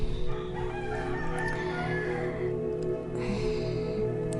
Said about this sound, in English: We're surrounded by roosters